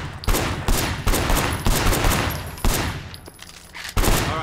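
Rapid bursts of gunfire from the Sleeping Dogs video game, a string of sharp, loud shots fired in quick succession with brief gaps between volleys.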